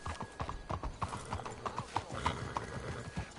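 Horse hooves clip-clopping in a PS4 video game, a brisk even rhythm of hoof strikes at a steady trot, clear and moderately close, with a faint whinny and little talk.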